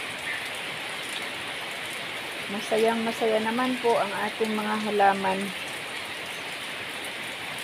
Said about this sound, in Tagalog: Hindi po tayo makagala-gala kasi ayan po umuulan